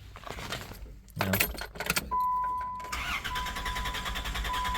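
A 1993 Plymouth Grand Voyager SE minivan that has sat for 18 years, its engine starting after keys jangle, then settling into a steady close idle with a thin whine over it.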